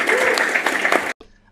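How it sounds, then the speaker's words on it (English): Loud burst of audience clapping at a recorded talk or seminar that cuts off abruptly, leaving brief quieter room sound afterward. "Give yourselves a massive round of applause"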